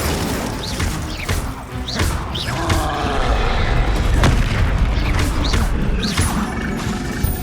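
Incendio fire spells cast in the game Hogwarts Legacy, amid Confringo and Glacius spells: loud, repeated whooshing blasts and booming crashes follow one another in close succession.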